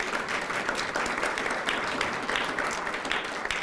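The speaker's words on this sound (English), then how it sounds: "please give them a big round of applause" An audience at a PAALS graduation ceremony for assistance dog teams claps steadily, a continuous crowd applause that stays fairly even in level throughout.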